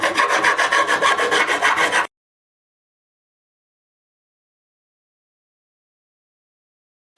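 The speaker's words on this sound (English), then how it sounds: "because this is a radius fretboard, you have to, keep your file going in that radius" A file rasps rhythmically over mandolin frets on a radiused fretboard, a fast run of close, even strokes lasting about two seconds before stopping abruptly into silence.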